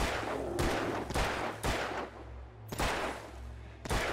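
Gunfire from the video game Alan Wake: a series of sharp, loud shots spaced roughly half a second apart, each a broadband crack over a steady low game-soundtrack rumble, with no talking.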